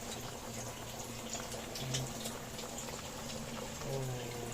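Saba bananas simmering in a pot of water, a steady low bubbling boil with a faint background hum running throughout and no voices.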